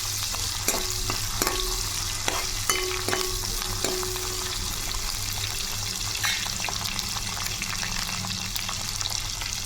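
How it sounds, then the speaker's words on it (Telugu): Small kaddi fish frying in hot oil, a steady close sizzle with intermittent clinks and scrapes of a utensil stirring against the pan and a low background hum. "ఈ కడ్డీ చేపలు అయితే నూనెలో వేగుతున్నాయి"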